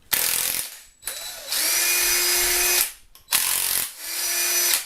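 DeWalt cordless impact wrench straining against a stuck fastener, two loud sustained bursts of whining, rattling hammering separated by brief pauses, close up with no talking.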